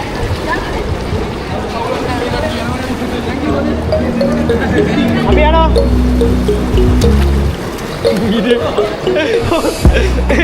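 Strong water current rushing through a spillway gate at Ginipetti Bridge, a steady broadband roar heard close by under people talking throughout.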